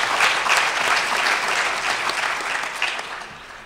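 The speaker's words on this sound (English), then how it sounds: "Let's give them all a round of applause" A conference audience breaks into a dense, steady round of applause that holds fairly loud throughout, then thins and fades slightly toward the end.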